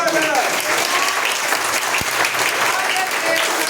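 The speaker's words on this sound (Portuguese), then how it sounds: "Você pode aplaudir a Jesus mais forte nessa noite." Church congregation applauding loudly, sustained dense clapping throughout from a crowd, with a preacher's voice speaking over it.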